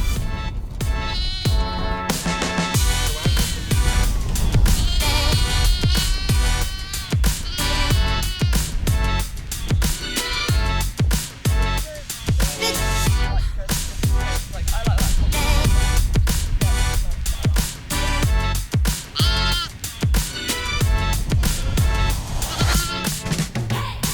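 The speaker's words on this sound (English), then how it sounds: "So that's 7 ewes and 11 lambs," Sheep, seven ewes and eleven lambs out in a field, bleat loudly and repeatedly, with overlapping high and lower calls throughout while a person talks among them.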